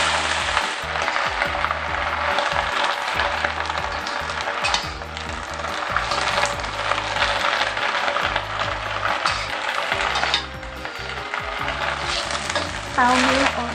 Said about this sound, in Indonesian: Setelah wajan panas dikasih minyak,